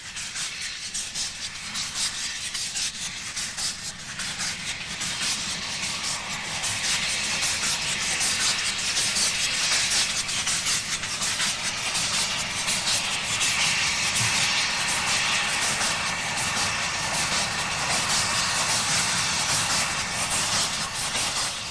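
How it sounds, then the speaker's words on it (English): The Earl, a steam locomotive on the Welshpool & Llanfair Light Railway in Wales, pulls out of Castell Caereinion with a steady, loud hiss and broadband rush of steam and rolling stock that builds after a few seconds and continues without talk. "the gallant old locomotive, the Earl, as it puffs out of Castellcarregnon"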